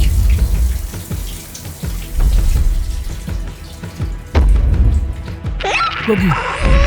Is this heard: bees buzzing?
no